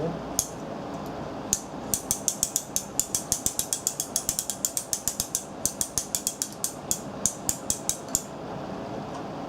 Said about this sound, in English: we can re-engage our hand crank